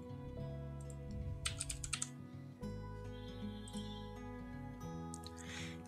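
Someone types a password on a computer keyboard, a short flurry of close, crisp key clicks in an uneven rhythm over steady background music.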